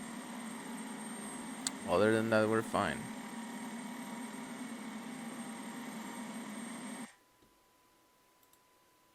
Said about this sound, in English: The only downside is the very, very loud engine noise.